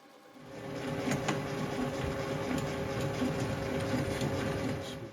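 A boring bar cuts the cylinder bore of an Odds'n Ends hit-and-miss engine, a steady, moderately loud machining whir with a faint repeating rhythm that runs without pause for several seconds, with no talk over it.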